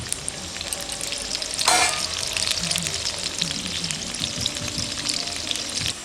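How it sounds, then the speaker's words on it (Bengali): Potatoes fry in oil with a steady, close sizzle that runs throughout, with one brief brighter burst of crackling near the start. "আলু ভাজা হয়ে গেছে এখন আমরা নামিয়ে নেব"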